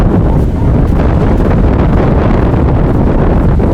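Strong swirling wind buffets the microphone during a women's rowing race between Princeton and Columbia, a loud, continuous roar that fills the whole stretch.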